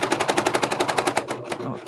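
The cutting knife of a sewing machine hammers against thick fabric while an apron is sewn. It makes a fast, close, rapid-fire clatter of evenly spaced hits that loosens slightly near the end, with faint talking possible underneath.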